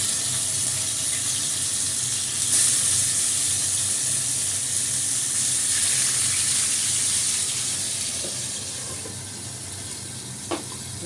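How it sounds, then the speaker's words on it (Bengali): Bele fish frying in hot oil makes a loud, continuous hissing sizzle, steady and close, easing slightly toward the end with a few small pops and crackles. "এই বেলে মাছ ভাজতে দিয়ে দিলাম"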